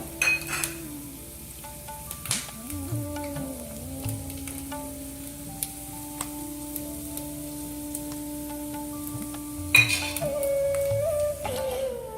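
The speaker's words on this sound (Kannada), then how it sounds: "ಇದೀಗ ಒಗ್ಗರಣೆ ಸ್ಲೋ ಫ್ಲೇಮಲ್ಲಿ ಆಯಿತು." Gentle oil sizzle of a spice tempering crackles steadily in a pan over a slow flame, with occasional clinks of a spoon against metal; no voices.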